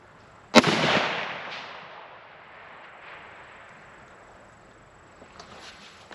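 A single sharp rifle shot from a Ruger SFAR firing cheap ammunition outdoors, a loud crack followed by a long decaying echo that fades into quiet.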